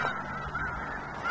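Waterfowl call in the foreground at Bosque del Apache at sunrise, a faint, steady honking chorus of geese with no voices.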